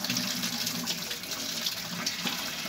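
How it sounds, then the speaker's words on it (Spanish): Water gushes with sputtering air from a solar water heater pipe after purging, a steady rushing splash with bursts of air, loud and close throughout, with no talking. "Ya está saliendo el aire, ya está saliendo el agua"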